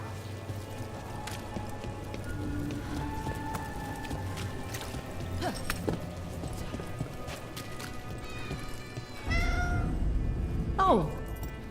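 Cat meowing in the video game Dragon Age: The Veilguard, a couple of short, clear rising-and-falling meows near the end, over a steady ambient game soundscape with faint hoofbeats, no talk.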